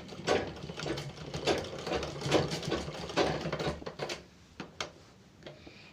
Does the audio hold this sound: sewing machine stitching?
yes